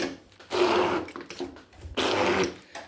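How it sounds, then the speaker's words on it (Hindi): A hand blender mashes a shami kabab mixture of cooked, deboned meat, with two loud, close whirring bursts separated by a brief, quieter pause. "अब मैं इसको हैंड ब्लेंडर से मैश करती हूँ।"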